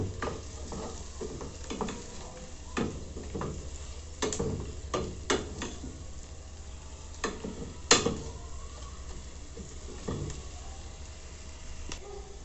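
Sliced onions brown slowly in a pan for a shrimp sauce with a soft, steady sizzle, while irregular stirring scrapes and taps ring out close by, a few of them louder.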